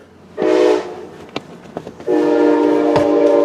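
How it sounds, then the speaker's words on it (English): A passing train sounds two long, loud horn blasts with a steady chord, separated by a short gap of clanks and rattling from the rail cars, heard from inside a 2020 Honda CR-V EX. "I have a train going by."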